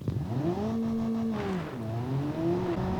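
A Honda HR-V fitted with a Civic four-cylinder engine drives in the BeamNG video game, its engine droning loudly and rising and falling in pitch as it revs and shifts, alone with no talking.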